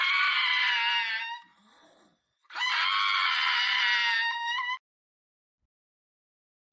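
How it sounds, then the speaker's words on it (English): An angry pug lets out two long, loud, high screaming yowls, close to the mic, with a short quiet gap of snuffling between them, then silence. "Or maybe they were supposed to sound like this angry pug."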